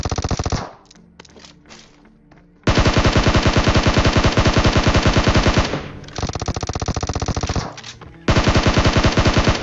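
Automatic weapons fire in a battle royale game at a military base, sounding as loud, dense, sustained bursts of rapid shots with brief gaps between them.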